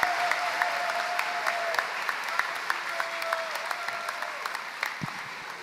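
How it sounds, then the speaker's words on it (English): Graduates and guests at a college commencement ceremony break into sustained applause, a broad steady wash of clapping with scattered sharper claps and faint tonal voices or whistles, gradually easing over several seconds. "give yourself a huge round of applause"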